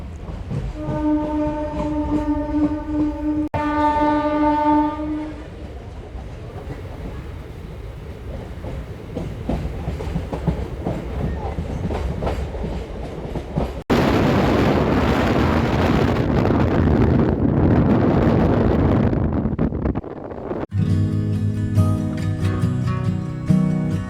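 A MEMU train rolls slowly on the Guntur–Vijayawada line, a horn sounding early, then a steady rumble and clatter with wind buffeting and a louder rush as it runs on.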